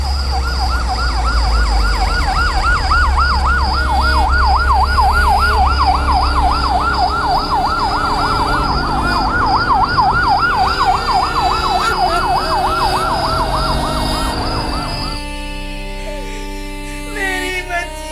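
An ambulance siren wails loud and near with a fast, steady up-and-down warble, a vehicle rumbling beneath it, before the siren cuts off abruptly near the end, leaving quieter tonal sound.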